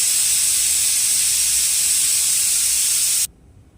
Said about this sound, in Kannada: ಕುಕ್ಕರ್ ವಿಜಲ್ ಆಗ್ತಾ ಇದೆ